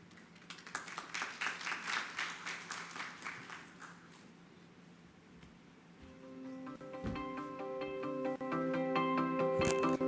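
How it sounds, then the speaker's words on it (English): An audience applauds at an industry citation ceremony, a dense wash of clapping that swells and fades over the first few seconds, then gives way to steady background music. "let's have a huge round of applause one more time"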